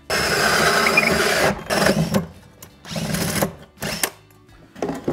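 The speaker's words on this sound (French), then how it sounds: "on va déjà y mettre un petit coup de scie cloche" A power drill with a hole saw bores through a partition wall for a toilet drain, giving a loud grinding whine in several bursts, stopping and restarting between cuts.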